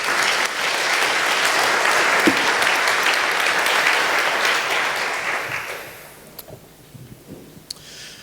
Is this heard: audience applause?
yes